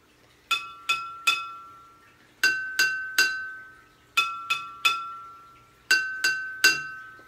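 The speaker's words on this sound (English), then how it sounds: "I have a spoon so that I can tap the glass and see if it makes noise." A spoon taps two water glasses holding different amounts of water, ringing out in four quick groups of three bright clinks, each chime decaying briefly, close and clear with no talking.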